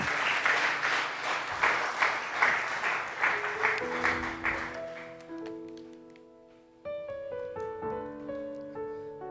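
A church congregation claps in rhythmic unison during a Spanish-language service. The clapping is fairly close and lasts about five seconds, then fades as soft keyboard notes take over.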